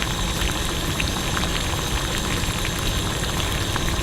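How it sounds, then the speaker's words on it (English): Water boils in a pot with a steady, dense bubbling and hiss, continuous and close, with no voices. "It just started boiling."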